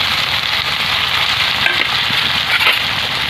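Papaya and potato fried earlier go into a pan of browned mutton curry, giving a steady, dense sizzle and frying hiss that carries on with no pause throughout, with faint stirring and no talk.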